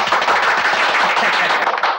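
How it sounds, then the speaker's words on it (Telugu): An audience claps in an old Telugu comedy film scene, a dense and loud applause that continues throughout and tapers slightly at the end. "ఇక్కడ చప్పట్లు కొట్టుకోవచ్చే."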